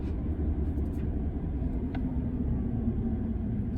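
Steady low road rumble and tire noise from a Tesla Cybertruck on big tires, heard from inside the cab while it drives, a constant dull roar with faint brief ticks on top and no talking.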